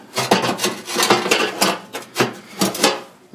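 A standard cast iron grate is worked into a homemade waste oil and wood burning stove, giving repeated close metallic scrapes and clunks in irregular bursts with no talking.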